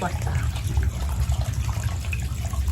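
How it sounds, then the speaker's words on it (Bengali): Tap water runs steadily while a large rohu fish is rinsed and cleaned in a kitchen sink, a low rushing splash that continues throughout, with a voice talking over it. "তো চলো মাছটা ধুয়ে পরিষ্কার করে নিই"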